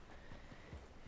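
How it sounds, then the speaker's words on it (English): Horse hooves clip-clopping in Red Dead Redemption 2, a few soft low thuds in an irregular trotting rhythm under steady game ambience. "One of these random horses."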